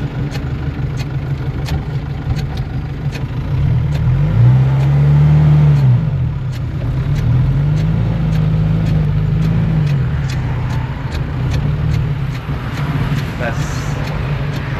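A Kolkata taxi pulls away in second gear, its engine swelling into a revving hum that rises and falls. Steady ticking sounds throughout, and someone talks over it.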